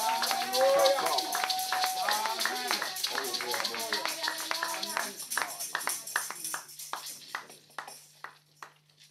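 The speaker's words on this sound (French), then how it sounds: "Acclamons encore très fort." Church congregation clapping and cheering loudly at a worship service, dense rapid applause mixed with voices that thins into scattered, slowing claps as it fades.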